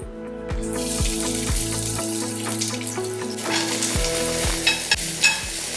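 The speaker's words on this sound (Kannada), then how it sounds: "ಒಂದೆರಡು ಚಮಚ ತುಪ್ಪ ಬಿಸಿ ಆಗ್ತಾ ಇದ್ದ ಹಾಗೆ ಹೆಚ್ಚಿದಂಥ ಅರ್ಧ ಕಪ್ ಈರುಳ್ಳಿನ ಹಾಕ್ತಾ ಇದ್ದೀನಿ" Half a cup of chopped onions goes into a couple of spoons of hot ghee, sizzling and frying steadily with stirring and the clink of a spoon against the pan, close and moderately loud, with no one speaking.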